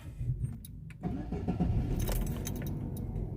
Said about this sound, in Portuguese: Agora nós vamos dar uma partida no carro.